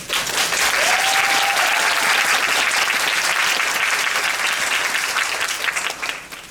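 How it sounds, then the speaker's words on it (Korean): Applause from a musical theatre audience at a curtain-call stage greeting for the pirate musical 'Haejeok', honouring its company and staff; dense, steady clapping fills the hall, holding strong before tapering off near the end, with a brief whistle early on. "그럼 그분들한테 박수 한 번만 주시면 안 될까요?"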